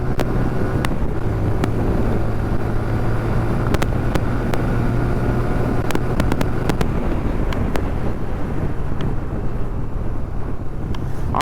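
TVS Apache RTR 180 motorcycle accelerating hard on a test ride, a steady loud engine drone buried in heavy wind rush across the microphone, continuous throughout with no talking.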